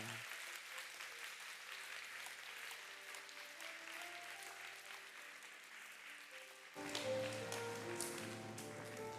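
Congregation applauding during a Korean church anniversary Sunday service as children leave the stage, a steady wash of clapping that swells louder near the end, with music tones underneath.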